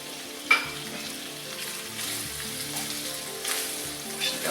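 Shrimp and garlic fry in a hot pan with a loud, continuous sizzle. Stirring scrapes and clatter sound close by, and no one talks.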